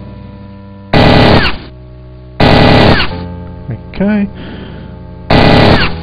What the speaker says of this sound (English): Still being shot at.